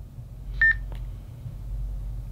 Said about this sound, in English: Pretty straightforward, single beep.